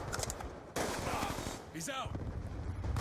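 Bursts of automatic gunfire from the shooter game Call of Duty Black Ops 2 on a Hardpoint match, with submachine guns and shotguns in play. The shots are fairly loud, rapid and continuous, and there is no talk.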